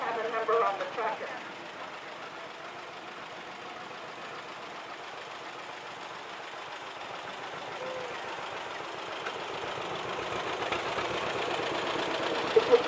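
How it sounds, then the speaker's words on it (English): A 1945 John Deere A White Front tractor pulls a shuttle in an antique machinery parade, its engine chugging in a steady, fairly distant beat beneath a voice. "this 19 John Deere A White Front is pulling the Platte Valley Antique Machinery shuttle"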